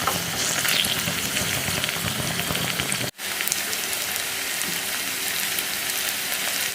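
Ingredients browning in a pan for a dried-shrimp and green mango curry, giving a loud, close, continuous sizzle and crackle that cuts out abruptly for a split second before carrying on.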